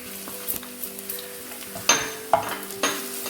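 Crushed garlic and ginger fry in hot oil in a pan, giving a close, steady sizzle punctuated by a few sharp stirring clatters against the pan.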